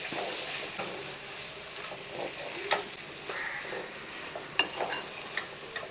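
A spoon stirs fried okra through gravy in a hot pan, giving a continuous gentle sizzle with irregular scrapes and clinks across several strokes, close by and without speech.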